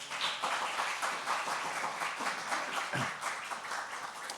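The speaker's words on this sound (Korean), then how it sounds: "잠깐 일어나시면 박수로 안녕하겠습니다" Church congregation claps together to greet a visitor during a Sunday worship service, a steady, moderately loud round of applause lasting a few seconds.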